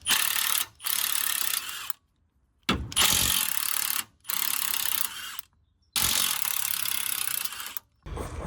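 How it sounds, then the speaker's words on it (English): A ratchet wrench clicks away at suspension bolts on a 2013 Renault Megane MK3 1.5 diesel, in several loud, fast rattling bursts separated by short silent pauses. "I prefer to remove the bottom bolts rather than the ball joint itself"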